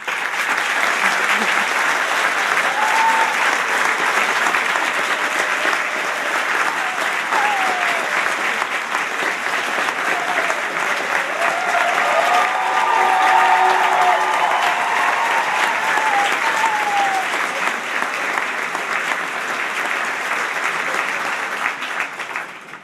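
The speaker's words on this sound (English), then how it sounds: "join me in thanking them, your family, friends, lecturers, for all they've done to help you to this point with a round of applause" A large audience claps steadily through a round of applause at a university graduation ceremony, a dense, sustained wash of many hands that holds at a constant level from start to finish.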